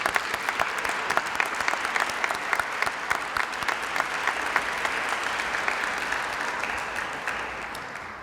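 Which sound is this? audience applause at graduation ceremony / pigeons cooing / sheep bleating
audience applause at graduation ceremony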